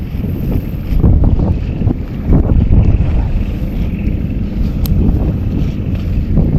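Strong sea wind roars across a small fishing boat, a loud continuous rumble with gusts swelling and easing throughout, and no one talking.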